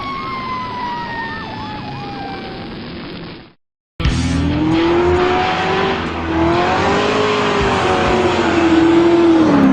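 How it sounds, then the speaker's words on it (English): A Corvette pulls up with a loud, rough engine roar that swells and wavers, following a brief dropout of sound; before it, high wailing, siren-like tones sweep over a busy background. "Corvette pulling up"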